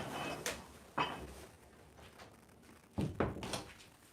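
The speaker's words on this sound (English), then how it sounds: "Let me shut the door real quick" An indoor door thuds shut, a few dull knocks and bumps spread over several seconds, fairly quiet and close, with no talking.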